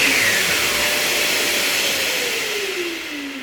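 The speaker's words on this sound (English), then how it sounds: "the vacuum kicks in" A vacuum dust extractor auto-starts alongside a power tool during paint removal, a loud, close, broadband whooshing roar with a whining tone that slowly drops in pitch as the motor winds down.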